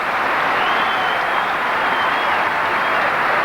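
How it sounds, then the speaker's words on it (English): Loud sustained applause from a tennis crowd at the 1986 Davis Cup final between Cash and Pernfors after a long rally, a dense steady wash of clapping throughout. "the crowd appreciating that point from both players here"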